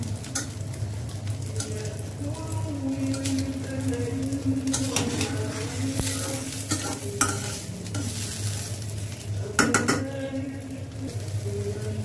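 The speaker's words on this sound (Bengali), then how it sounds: "তাই ডিমটা ভেজে দিচ্ছি" An egg fries in a pan with a close, continuous sizzle and crackle, broken by a few sharp spatula scrapes and pops, with no talking.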